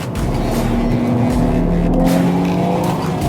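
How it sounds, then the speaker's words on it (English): A 2021 BMW M3 G80 sedan accelerates out of a corner with slight oversteer, its engine holding a loud, steady drone with rising harmonic tones throughout, heard close from inside the car. "Now we're driving out of the corner with slight oversteer."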